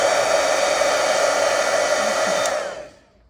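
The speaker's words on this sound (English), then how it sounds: "I'm just gonna hit this with the dryer." A hair dryer blows a loud, steady whoosh over fresh watercolor paint for about two and a half seconds, then winds down and cuts off, with no voices.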